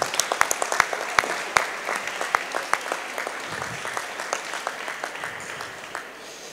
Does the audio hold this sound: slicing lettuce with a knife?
no